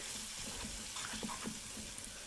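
Water pours steadily into thickening besan batter in a pan, a continuous splashing gush with faint bubbling throughout, no voices over it.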